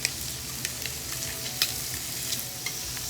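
Shrimp are flipped in a pan of tender vegetables and tomatoes, setting off a continuous close sizzle marked by several sharp ticks and clacks as the pieces turn.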